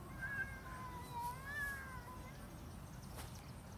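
A cat gives a few faint, drawn-out meows, wavering cries in the first two seconds, distant and quiet over steady background noise.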